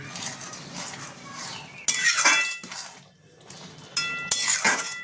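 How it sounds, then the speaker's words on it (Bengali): A metal spoon clinks and scrapes against a cooking pot while chicken keema with ground coriander and cumin is stirred, then a lid is set down with a sharp clatter; moderately loud, close, with no talking. "দিয়ে এবার এটাকে নাড়িয়ে আমি ঢাকা দিয়ে দেবো।"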